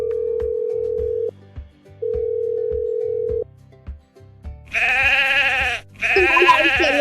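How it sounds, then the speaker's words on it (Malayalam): Goat bleats in a children's animal-calling game: a steady electronic tone repeats twice over soft ticking, then two loud, wavering bleats follow close together, each about a second long. "നമ്മള് ചെമ്പത്തിയാടിനാണ് വിളിക്കാൻ പോകുന്നത്."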